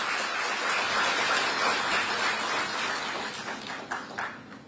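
A crowd claps steadily at an education policy event to welcome minister Dharmendra Pradhan, a dense, fairly distant patter that holds even and then thins into scattered claps near the end.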